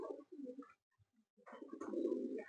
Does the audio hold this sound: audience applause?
no